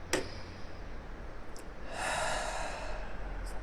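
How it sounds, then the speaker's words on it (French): One deep, audible breath during a heart coherence breathing exercise: a soft breathy inhale heard close to the mic over steady low background hiss, followed by a short quiet pause. "je vais prendre une grande respiration"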